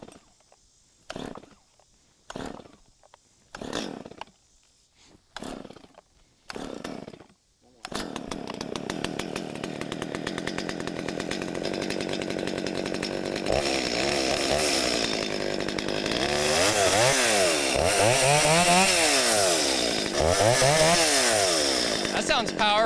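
A Stihl 025 chainsaw is pulled several times in short bursts, then catches and runs, idling roughly before revving up and down loudly, with a person talking over it.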